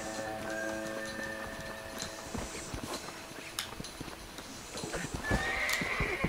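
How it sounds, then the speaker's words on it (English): A horse in Red Dead Redemption gallops with steady clip-clop hoofbeats and gives a whinny near the end, loud and close with no talking over it. "Call the fucking horse."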